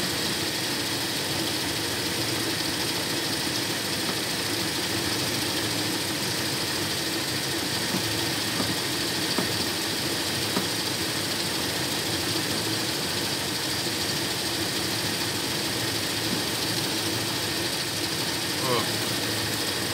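A carburetor Toyota Kijang engine idles steadily, a continuous broadband mechanical hum that holds even throughout, with a voice talking over it.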